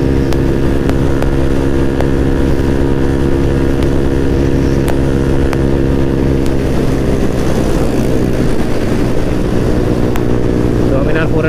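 A group of motorcycles, including a Bajaj Dominar 400, rides on a Sunday trip to Sadra Fort with the riders leaned into the bikes, giving a loud, steady, close engine drone that holds without a break.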